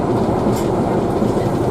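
A train bound for Epping Forest, with the reverser set to forward gear, moves ahead slowly on the rails. A steady, loud low rumble carries through, with faint wagon clatter and no clear voices.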